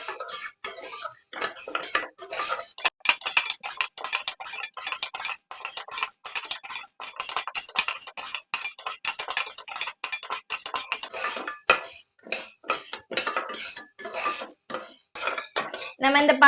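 Whole green gram (moong) dry-roasted in a pan on low flame, stirred constantly, producing dense rattling, clinking and scraping of the dry beans and spoon against metal, steady with brief pauses.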